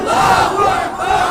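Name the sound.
crowd shouting the slogan Nara-e-Takbir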